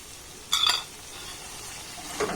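Milk cream frying in a pan for sarpuria sweets gives a low sizzle broken by two short clinks of a utensil against the pan, one early and one near the end.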